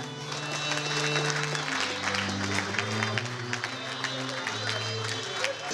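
An audience applauds at a tribute ceremony honoring Patrice-Aimé Sesanga, father of Delly Sesanga. The clapping is steady and fairly close, with sustained low tones running underneath.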